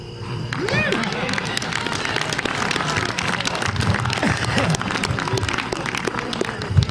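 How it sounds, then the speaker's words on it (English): An audience applauds a performer at a live comedy and music show, with clapping and crowd noise sustained throughout and voices mixed in. "Give him a round of applause."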